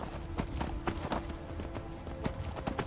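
Horse hooves clip-clop at an irregular walking pace in Skyrim as the mount climbs over rocks, a series of close, moderately loud thuds against a faint ambient backdrop.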